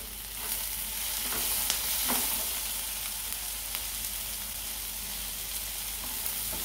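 Ginger and chopped tomato sauté in a pan with a dense, constant hiss of frying at close range, loud and even throughout, with only faint stirring touches and no speech.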